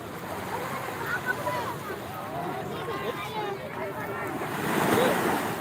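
Ocean waves wash onto the shore at Ancol beach, a steady rushing surf with wind buffeting the microphone, swelling louder near the end, while voices are faintly present.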